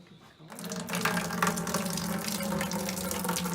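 Liquid pours steadily into a sanitized brewing bucket for an American IPA, starting abruptly after a brief quiet moment and then running as a continuous, splashy gush close by.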